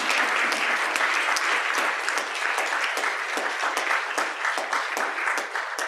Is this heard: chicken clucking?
no